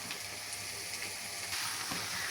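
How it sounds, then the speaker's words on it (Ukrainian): Steady sizzling of diced eggplant frying in a hot pan, a constant crackling hiss with faint stirring clicks, no speech. "Поки баклажани обсмажуються"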